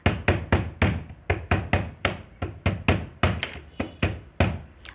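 A drum tapped rapidly in a classroom science demonstration, giving a steady run of about sixteen sharp, close knocks over five seconds, each with a quick decay, heard alone with no talking.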